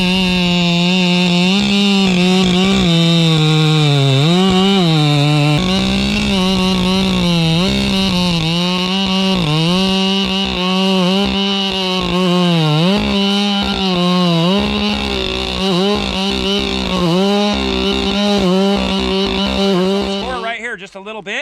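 A Husqvarna 592xp chainsaw roars loud and close while bucking a redwood log, its engine pitch rising and dipping repeatedly under load, then cutting off abruptly at the end.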